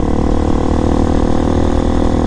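RPS Hawk DLX 250 motorcycle with a CG-style Honda-clone engine running close by, a loud steady mid-pitched engine drone with no talk over it.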